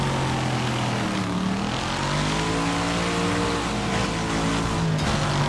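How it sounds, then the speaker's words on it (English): Several racing cars pass in a Wreckfest race, engines droning loudly with sliding pitch as they sweep by close, a continuous layered roar of motors with no talk. "Oh, here are a load of cars."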